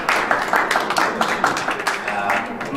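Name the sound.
audience applause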